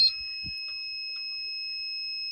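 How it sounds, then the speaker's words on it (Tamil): A Tata Ace vehicle sounds a steady, continuous high electronic beep that holds unbroken at moderate loudness throughout. Faint clicks and thumps are scattered underneath. "இந்த பீப் சவுண்டுக்கு இருக்குங்களா"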